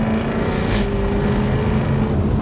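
A Jaguar F-type R V8 on the move lets out a single sharp exhaust crack over a steady, close engine drone, with no voices.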